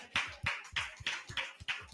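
A few people clapping in a slow, uneven rhythm at a community town-square gathering, about six distinct claps spaced roughly a third of a second apart, close and fairly sparse rather than a full crowd.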